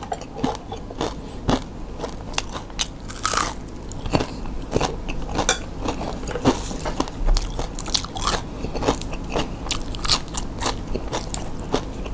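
Crunchy chewing of fried pork cracklings with chili paste and rice, close and steady, with sharp repeated bites and crackling crunches filling the whole stretch and no talking.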